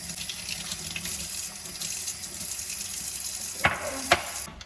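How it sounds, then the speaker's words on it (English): Warm tap water runs steadily into a bowl of dry dog biscuits, a continuous close splashing stream that ends with a couple of brief clunks. "So rehydrate your biscuits, fill it in with some water."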